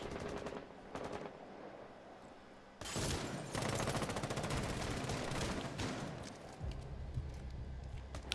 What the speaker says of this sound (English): some bullets coming in here